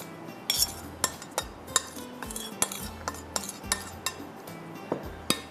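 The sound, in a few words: mixing butter and spice marinade into drumsticks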